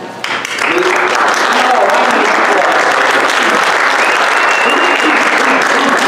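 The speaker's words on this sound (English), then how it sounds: "And I want a big round of applause for Lou Lallo." An audience applauds loudly and continuously, a dense wash of clapping from a large crowd.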